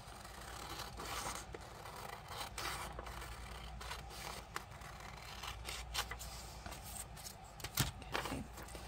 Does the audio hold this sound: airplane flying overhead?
no